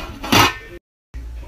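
A metal lid clanks onto a cooking pot of boiling water with a short, loud clatter, followed by a brief silence and a low kitchen hum.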